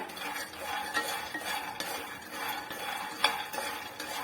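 Peanuts roasting dry in a pan for homemade peanut candy, stirred steadily with a spoon, giving a continuous close scraping and rattling with a few sharper clinks, no voices.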